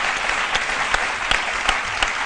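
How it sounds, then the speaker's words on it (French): Steady audience applause on a television culture program for a man of culture and cinema, dense clapping with a few louder individual claps punctuating the wash. "qu'on peut applaudir, un grand homme de culture et de cinéma"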